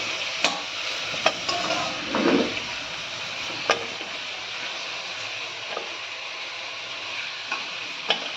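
Lemon-marinated chicken fries in a pan of hot oil with a steady close sizzle, broken by a few sharp clicks and a soft scrape as pieces are lifted out.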